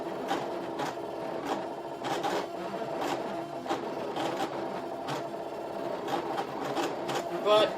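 A Brother ScanNCut cutting machine runs close by with a steady mechanical whir and regular clicking, rasping carriage strokes, while a person talks over it.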